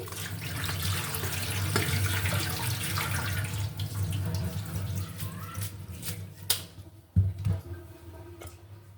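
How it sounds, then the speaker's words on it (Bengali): Cold water pours steadily over freshly boiled noodles in a home kitchen, a continuous splashing rush that ends with a few sharp clinks. "ঠান্ডা পানি দিয়ে দিয়ে নুডলসটা আর জড়িয়ে যায় না একটা একটাই থেকে যায় পানিটা দিয়ে দিচ্ছি"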